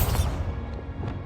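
A Bombarda spell goes off in Hogwarts Legacy on PS5 with a sharp crashing blast and rumble, followed by a couple of smaller debris-like knocks as it dies away.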